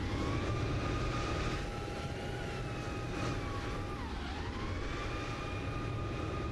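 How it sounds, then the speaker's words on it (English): An airplane drones in a flight simulator, a steady, low engine hum that fills the whole stretch. It stays faint and distant, with slight wavering tones drifting over a constant rumble and no talk. "I do hear a plane somewhere else"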